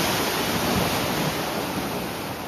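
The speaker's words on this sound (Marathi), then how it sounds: "समुद्र उसळला." Sea waves surging along a shore, a loud, dense, continuous rush of surf with wind buffeting the microphone, no voices.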